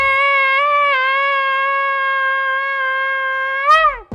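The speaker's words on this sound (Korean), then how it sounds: "공포에 질린 동물들의 비명소리가 여기저기 터져나오는 가운데 뿔피리 소리가 울려 퍼지면" Terrified animals about to be sacrificed at a temple altar let out a loud, sustained, high-pitched wail that holds steady for several seconds before its pitch sags and breaks off at the end.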